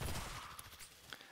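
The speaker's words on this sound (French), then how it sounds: "Ah, du coup l'explosion." Explosion in the video game Heroes of the Storm, a short muffled boom at the start followed by crackling bursts that fade away over about a second, heard alone without speech.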